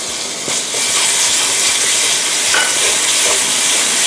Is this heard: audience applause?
no